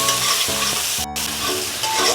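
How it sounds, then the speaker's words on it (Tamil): Onion, garlic and ginger frying in a pan for a bhindi fry, a loud continuous sizzle broken by periodic spatula scrapes and taps, with no talk. "வெங்காயம் கொஞ்சம் நல்லா வதங்கட்டும்."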